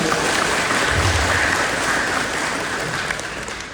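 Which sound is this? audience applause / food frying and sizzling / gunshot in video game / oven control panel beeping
audience applause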